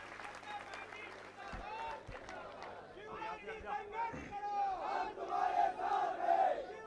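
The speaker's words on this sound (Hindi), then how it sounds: "उनका जोरदार तालियां बजा के स्वागत करें" A large crowd at a Madhya Pradesh BJP farmers' rally cheers, shouts and claps to welcome Chief Minister Shivraj, the roar swelling louder toward the end amid babble.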